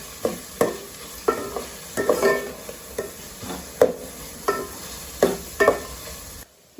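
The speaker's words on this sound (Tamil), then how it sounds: "அதையும் போட்டு வதக்குவோம். வெங்காயம் நல்லா வதங்கணும்." Onions and green chillies sauté in a pan for chicken biryani, with a steady sizzle under repeated scraping strokes of a spoon, roughly one every half second, close and clear with no talk.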